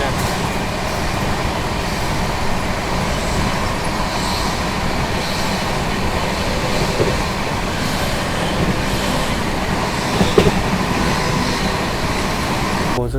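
Poorva Express train running toward Tundla Junction, heard from inside a 2AC coach: a loud, continuous rumble of wheels and carriage noise with faint rhythmic rail clicks and a brief clatter near the end.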